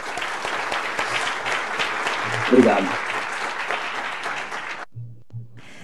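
Seminar audience at a geospatial transmission management event gives a steady round of applause that cuts off abruptly near the end, with a speaker briefly talking over it.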